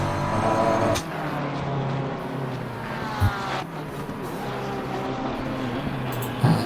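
Race cars in Assetto Corsa Competizione circle Paul Ricard, a continuous engine roar with rising and falling pitch as cars pass, a couple of sharp thumps cutting through, no voices.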